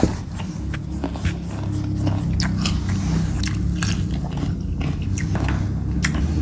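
Close, loud biting and chewing of crunchy water olives, with irregular crisp crunches over steady mouth noise for the whole stretch and no talking.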